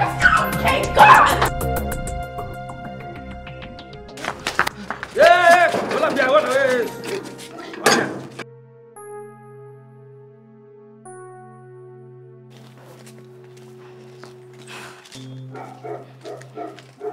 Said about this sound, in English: Which dog? The pet Auntie Julia brought here for us to look after